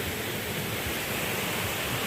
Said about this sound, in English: So we're right next to the creek.